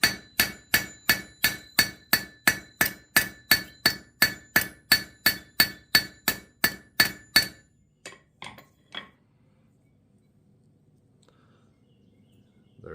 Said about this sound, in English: and we just pin the rivet down.